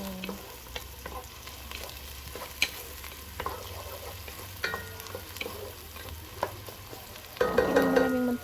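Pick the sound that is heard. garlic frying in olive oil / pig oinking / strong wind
garlic frying in olive oil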